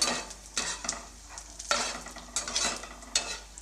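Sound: raisins and cashews frying in a pan

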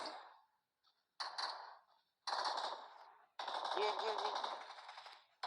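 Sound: gunfire in video game PUBG Mobile

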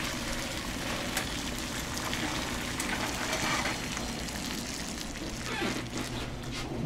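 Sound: pouring liquid into a Swartzbaugh Conservo cooker

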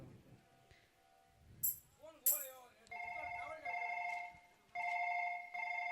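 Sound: telephone ringing while placing a phone call

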